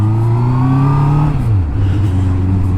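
A BMW motorcycle engine revs loud and close, pitch climbing then dropping back as the throttle eases off to a steady idle.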